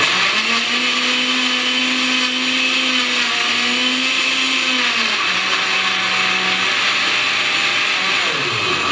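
An ordinary $25 Costco blender whirs steadily as it chops parsley for a green drink, its motor pitch wavering and dipping near the end, loud and close with no talking.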